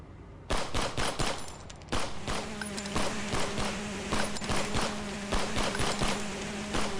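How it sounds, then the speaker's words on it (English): Dense bursts of rapid gunfire crackle continuously after a brief quiet start, loud and chaotic, with a steady buzzing hum running underneath. "The forest erupted in gunfire"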